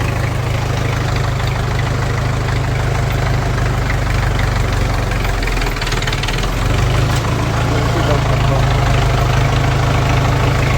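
A tractor engine idles steadily and loudly up close, a constant low rumble with a brief dip midway before it resumes.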